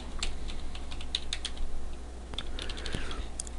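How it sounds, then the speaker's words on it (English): Typing on a computer keyboard: a quick, uneven run of light key clicks, near and fairly quiet, with short pauses between small bursts. "I'll type scrolling"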